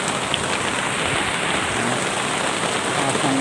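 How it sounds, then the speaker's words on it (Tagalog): Heavy rain pours down steadily on a vegetable garden of string beans and sponge gourd, a dense, even hiss of drops striking surfaces with no talk. "ulan"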